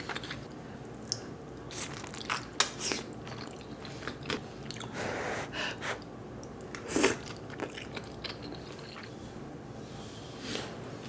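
Someone eating birria ramen, with close, intermittent bites, crunchy chews and soft wet slurpy sounds scattered across the stretch, no talking.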